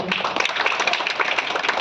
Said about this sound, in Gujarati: તમારી ઉપસ્થિતિને ફરી એક વખત ખોબલે ખોબલે તાળીઓથી વધાવો